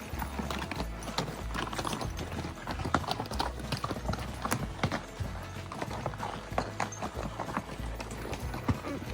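A horse's hooves clip-clop on a steep rocky trail in Wyoming backcountry, uneven clattering steps on stone with occasional tack rattle, close and continuous.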